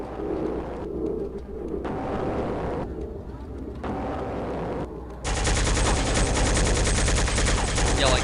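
Rapid gunfire from a weapon in a Half-Life based game boss fight, bursts of shots starting and stopping, then a dense continuous barrage near the end, close and loud, mixed with game ambience.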